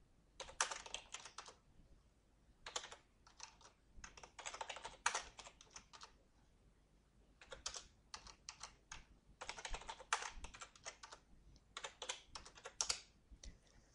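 Quick bursts of keystrokes on a computer keyboard come in irregular clusters separated by short pauses, close and crisp but quiet, with no talk.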